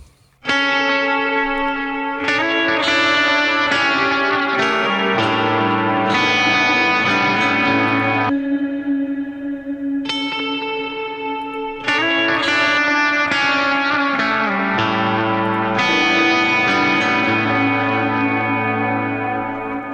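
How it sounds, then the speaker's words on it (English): Clean electric guitar chords ring out with lush echo and chorus, sustained and layered in a slow, spacious ambient passage opening a metal song. "start this song with some ambient clean tones"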